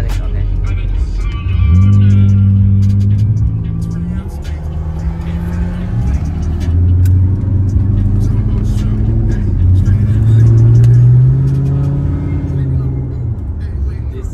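A Lexus with an automatic transmission and an exposed, skeletal build runs its engine, which rises and falls in repeated low revving swells up close, with voices faintly audible beneath.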